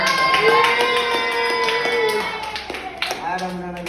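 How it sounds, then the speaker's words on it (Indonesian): A short burst of hand clapping from a small classroom group rises under people talking, then fades into scattered taps. "Tepuk tangan dulu."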